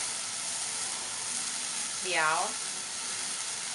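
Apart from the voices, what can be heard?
stir-frying sunflower sprouts and fresh shiitake mushrooms in a pan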